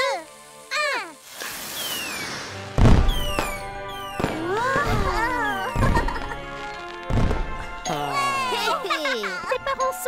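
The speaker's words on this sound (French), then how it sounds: "Après dîner, il y aura encore des feux d'artifice." Sharp bursts and crackling pops of fireworks go off repeatedly amid lively background music, with occasional voices, fairly close and loud.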